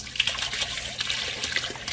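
Melted butter and milk poured from a container into a bowl of egg yolks while making pierogi dough, a steady soft liquid trickle heard close up with no talking.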